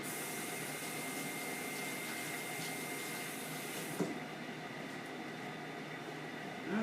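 Tap water runs steadily in a kitchen sink while something is rinsed under it, a constant hissing splash at moderate level that drops off near the end with a small clunk.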